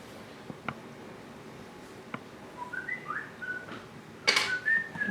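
A phone's text message alert whistles several times in a quiet room during a drawing class, a few short rising tones spread across the clip, with soft taps and a louder burst of noise near the end.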